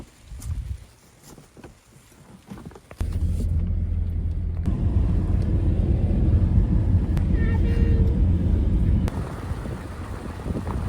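A car setting off in cold rain, a low steady engine rumble that starts abruptly after a few seconds and holds, with wind and rain noise and voices talking early on.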